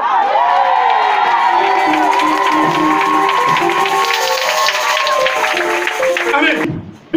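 A church congregation cheers and acclaims loudly and continuously, a dense crowd roar with shouts and whoops, while an amplified voice speaks over it before the sound cuts off abruptly.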